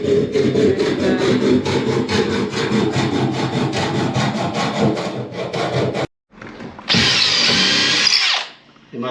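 A power drill bores through metal lodged in timber during a bracket-fitting and riveting job, grinding loudly and steadily for several seconds, cutting out briefly, then returning in a harsher, higher whine before stopping.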